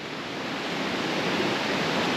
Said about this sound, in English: we are right by the creek